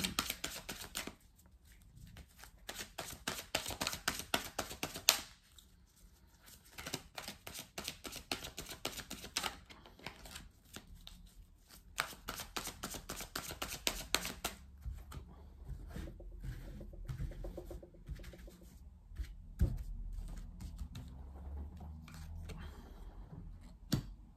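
Oracle cards are shuffled in quick, crisp riffles and flicks, close and fairly loud. Brief pauses come between bursts, and softer handling and drawing of cards follows toward the end.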